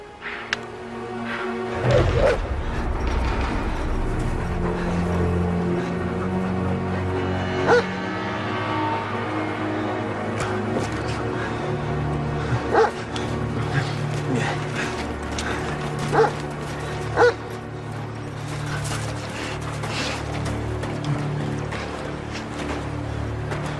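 Dogs on a search along a river bark and whimper repeatedly, with whines and sporadic barks over a continuous mechanical rumble that runs throughout.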